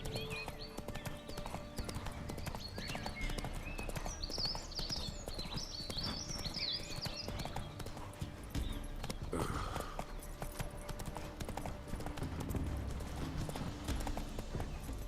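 Roach the horse trots along in The Witcher 3, steady clip-clop hoofbeats under game music and ambience, with a brief whinny and a voice line.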